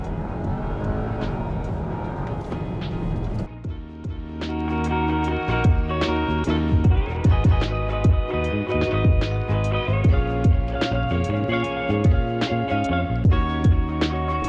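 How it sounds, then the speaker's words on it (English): A 2022 Skoda Kodiaq RS 2.0 TSI launches hard in Sport mode with traction control off; the engine roars loudly and climbs through rising revs with repeated gear shifts, close and continuous. "if I want to launch this RS Beast, I just shift it into Sport, turn off traction control"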